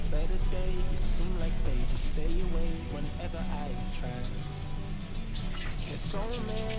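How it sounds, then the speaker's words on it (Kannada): Hands are rinsed under a running kitchen tap while preparing jowar roti dough, a continuous splashing water stream with small shifts as the hands move. "ಕೈನ ನೀಟಾಗಿ ತೊಳ್ಕೊಂಡು ಒರೆಸ್ಕೋಬೇಕು"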